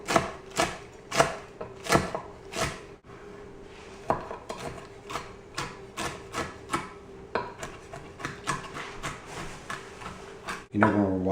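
Cooked, cooled bacon is chopped with a knife on a cutting board: a close run of sharp, rhythmic chops with short pauses and light scraping between strokes.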